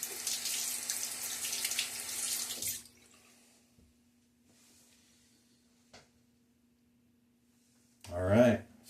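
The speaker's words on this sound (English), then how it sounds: "All right, a little splash of water." A tap runs water in a steady broadband rush for about three seconds at close range, then cuts off, during a wet shave with a Timeless 68 open-comb safety razor.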